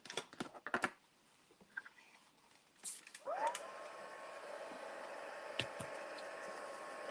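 Handling clicks and taps, then a heat tool spins up with a rising whine and settles into a steady whooshing blow while it warms an embossed card background for card making.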